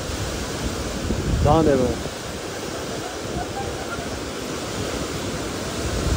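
A waterfall in Kumrat Valley, Swat, pours as a loud, steady roaring rush of water, continuous and close, with a voice speaking briefly over it.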